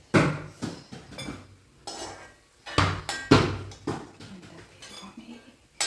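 Fried ginger is scooped out of a pan in a home kitchen, with irregular metallic clanks and scrapes of a spoon against the pan separated by short quiet gaps.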